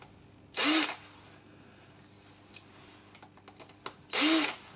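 Two short bursts of a power drill whirring up and spinning through metal with a drilling jig, separated by a pause with small clicks and handling noises.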